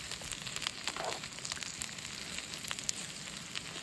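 Mushrooms sautéing in a pan at a wild camp by Grisedale Tarn in the Lake District, a faint, steady sizzle and crackle with no voices over it.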